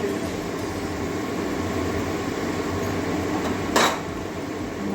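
A lid set on a cooking pot of potato and green banana curry on a gas stove: a single short metallic clink rises briefly over a steady hiss of kitchen background noise.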